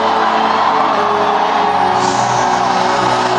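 A large church crowd at a revival gathering screams and cheers in a dense, loud, continuous roar that swells slightly near the end.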